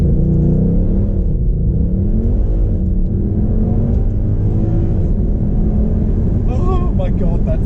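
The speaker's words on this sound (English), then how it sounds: "turn the dial to race start, confirm paddle up, race start available, depress accelerator, and then release the brake." A Mercedes C63 roars through a race start launch, its engine loud and close with a sustained rising rumble of hard acceleration, while excited voices cut in near the end.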